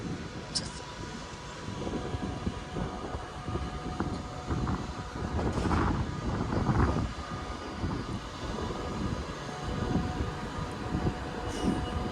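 A train at Manchester Piccadilly station produces a low, steady rumble with a rise in rolling noise midway, echoing under the station roof amid faint background station ambience.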